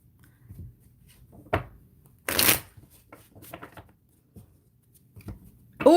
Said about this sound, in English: And make sure we're shuffling these cards.